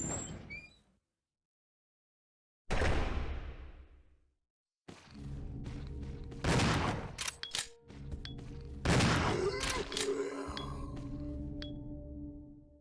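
Shotgun blasts in the zombie survival game Resident Evil 0 aboard a train, a few loud booming shots with long echoing tails and clanking between them, no voices.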